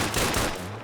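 A short, dense burst of automatic gunfire from a video game weapon with a 20-round magazine, loud and close.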